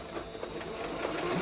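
Sewing machine stitching a seam on an Iro and Buba garment, a steady close mechanical whir running continuously throughout without pause.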